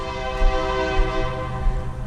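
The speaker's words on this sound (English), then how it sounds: "A lot of trains around here." A train horn blares steadily throughout, a loud sustained chord with low rumbling rail noise underneath.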